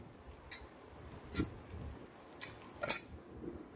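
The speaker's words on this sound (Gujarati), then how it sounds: "હવે આપણે કુકરને બંધ કરી દેવાનું છે" Pressure cooker lid being shut in a home kitchen while making Gujarati dahi tikhari guvar masala: a few short metallic clinks and clanks, close and fairly faint, spaced apart over a quiet background.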